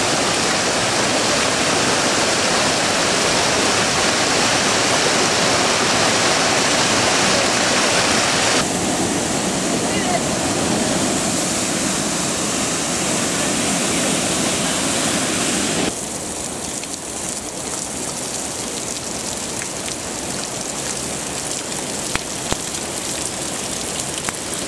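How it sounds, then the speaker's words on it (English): Wairere Falls in the Kaimai Range during a storm gives a loud, unbroken roar of rushing water and rain that holds throughout, easing slightly partway through, with no voices. "The little waterfall there."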